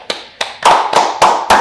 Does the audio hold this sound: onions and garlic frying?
no